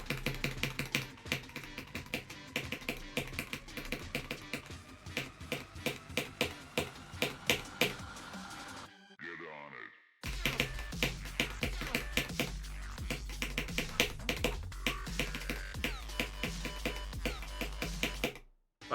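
Rapid mouse and keyboard clicking while gaming, a fast close clatter of sharp clicks in dense rhythmic bursts, with a short pause and a low rumble underneath the second half.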